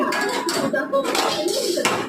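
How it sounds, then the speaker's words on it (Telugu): A metal cooking pot is set down on a lit stove while okra tamarind charu is being made. It gives close, bright clanks and clinks of metal on metal, continuing in a short cluster. "గిన్నె పెట్టేసేద్దాం."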